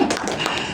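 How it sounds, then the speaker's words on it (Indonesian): A brief patter of hand clapping from a church congregation, rapid and close, lasting under a second. "Bapak Ibu boleh tepuk tangan untuk kebahagiaan saya."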